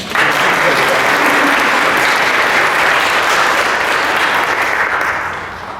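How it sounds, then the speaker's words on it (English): An audience at a summer graduation ceremony applauds for a graduate, a dense, steady wash of clapping from many hands that holds evenly for several seconds and tapers slightly at the end. "You can clap for her though."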